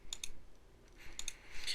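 Sharp mouse clicks on a computer while confirming an OK button in a dialog, a few crisp, close clicks in quick pairs with a faint trailing rustle.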